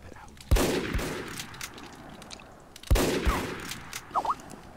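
Rapid SMG bursts crackle in Team Fortress 2, two loud volleys of gunfire a couple of seconds apart, followed by smaller game sound effects.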